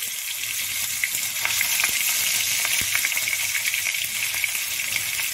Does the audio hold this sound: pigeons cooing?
no